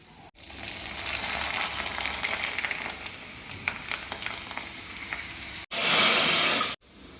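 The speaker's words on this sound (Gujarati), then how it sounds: "ભૂંગળા આપણા તળાઈ ગયા છે" Bhungla deep-frying in hot oil give a steady, close crackling sizzle that runs throughout, briefly cut off twice by short edits with a louder burst of sizzle near the end.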